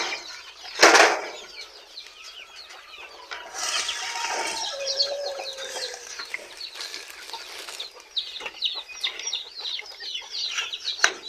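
Chicks and grown chickens crowd a brooder, filling the space with dense high peeping and chirping, scattered clucks and a burst of flapping wings near the start, all close by and continuous.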